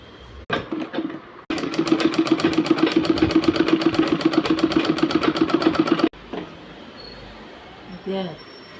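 A sewing machine stitches a pair of boys' shorts, running steadily for about four and a half seconds in a fast, even mechanical chatter, with quieter handling sounds before and after.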